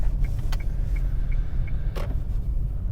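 Car engine rumbling steadily as a car drives and pulls up at a gym car park, low hum with a couple of brief clunks and a faint repeating indicator-like tick.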